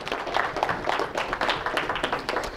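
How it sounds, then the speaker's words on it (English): Church congregation clapping hands in praise, a dense run of overlapping claps with an uneven pulsing rhythm, steady and moderately loud throughout. "Give the Lord a hand clap of praise"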